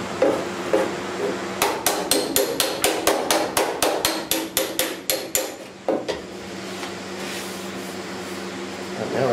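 Hammer planishing MIG welds on the upper cowl of a 1969 Chevy C10 during rust repair: a steady series of about twenty sharp, close metallic blows over a constant background hum.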